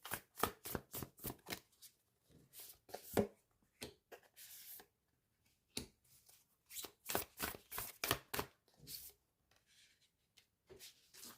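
Kuan Yin oracle cards being shuffled by hand, with soft, close riffling and sliding bursts in an irregular rhythm and brief pauses between them, quiet and with no talking.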